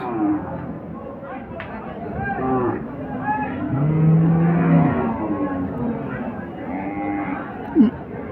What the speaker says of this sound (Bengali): এখানেও দেখছি একটি সাইওয়াল গাভী আর বাচ্চা কিন্তু সাইওয়ালের ক্রস